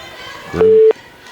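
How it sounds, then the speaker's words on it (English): A two-tone signal on a high school phone line, heard during a boys basketball play-in game broadcast, a short steady tone lasting about a third of a second over a low hum of crowd noise in the gym. "We're on the school phone line here, Tony. I think somebody's trying to call the high school"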